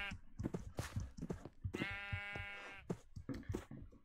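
Sheep bleating in the video game Minecraft, several short nasal bleats close by, one drawn-out wavering bleat in the middle, with a voice talking around them.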